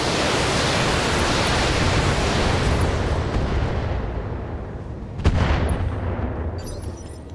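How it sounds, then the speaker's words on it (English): A howitzer fires in the video game BattleTech: a long, broad rumbling roar that swells and slowly fades over several seconds, punctuated by one sharp blast near the end, loud with no talk over it. "it fires that howitzer, tries to be scary"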